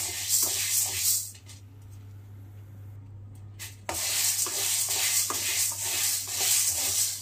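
Ingredients being dry-roasted in a home kitchen pan, with steady scraping and stirring rustles that continue, pause briefly, then resume under a constant low hum.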